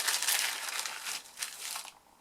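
Crinkling of a plastic bag being handled, holding cut-off strips of dimensional adhesive sheet borders for card making, in several close, bursty crackling rustles that fade near the end.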